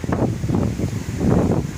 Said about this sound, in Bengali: প্রচুর গতিবেগে ঝড় হচ্ছে।